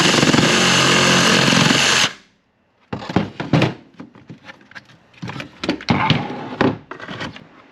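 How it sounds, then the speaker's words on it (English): A Sawzall reciprocating saw cuts through a car air intake on a 6th-gen Camaro, a loud steady buzzing run of about two seconds, followed after a pause by a series of irregular knocks and clatters. "now I'm going to grab my Sawzall, and I'm going to just cut right here"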